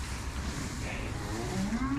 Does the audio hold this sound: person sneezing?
no